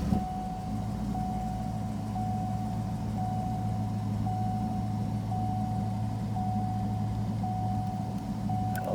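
A 1991 Ford Mustang GT V8 engine idles steadily for several seconds, a low, even rumble with a faint repeating door-open chime pinging in the background.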